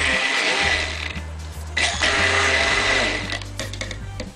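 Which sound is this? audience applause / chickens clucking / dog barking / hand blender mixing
hand blender mixing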